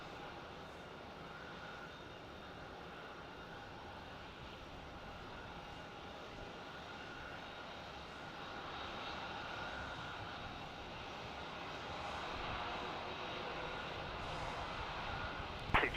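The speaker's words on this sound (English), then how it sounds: "Virgin 738 in from the Gold Coast." A Virgin Australia Boeing 737-800 arriving at Melbourne Airport from the Gold Coast, a steady distant jet roar that swells gradually and stays faint throughout.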